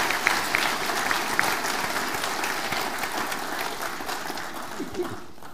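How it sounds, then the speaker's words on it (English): An audience claps after a speech by Crown Prince Haakon of Norway, a dense round of applause close at hand that slowly thins and softens toward the end. "please, another round of applause"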